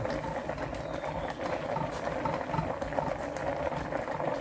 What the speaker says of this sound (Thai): ตอนนี้ก็เดือดอยู่ค่ะน้ำของเฮา